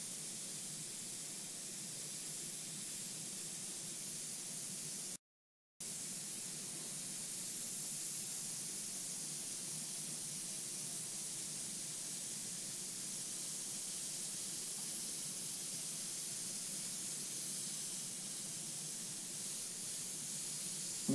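Airbrush spraying paint over a Monster Energy logo, a steady airy hiss running for most of the stretch with one brief cutout early on, fairly quiet and with no talking.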